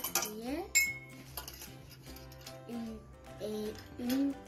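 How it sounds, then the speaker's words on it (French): Spoons of water go into a saucepan of apples, bringing metallic clinks and taps of spoon against pot in short scattered bursts, with voices heard in between. "On ajoute 2 cuillères à soupe d'eau dans la casserole avec les pommes."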